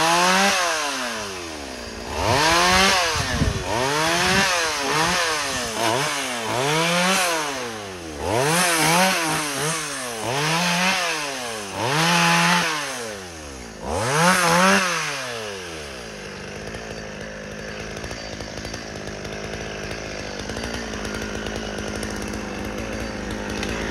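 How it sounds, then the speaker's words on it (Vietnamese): A chainsaw cuts through an old, overgrown Gừa bush in an abandoned garden, the engine revving up and down in repeated loud surges for about fifteen seconds before dropping to a lower idle. "Bụi rừa này cả nhà thấy cưa rất là tốn thời gian."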